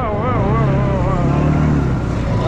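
A homemade motor tricycle with big lug-tread tires drives through open fields, its engine droning loud and steady throughout with a wavering pitch.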